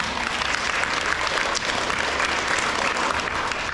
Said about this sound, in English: Congratulations, give them a round of applause.